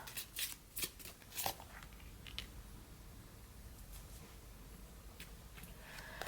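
Tarot cards shuffled by hand for a card pick, quick riffling bursts followed by softer continuous sliding and patting of cards, close but quiet, with no talking.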